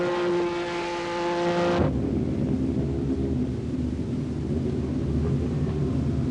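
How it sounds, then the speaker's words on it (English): Historic racing cars such as a Lotus 23 and a Ferrari idle and roll slowly back toward the paddock after practice, a steady low engine drone filling the scene after a brief higher-pitched tone. "Practice is over and the cars are rolling back to the paddock."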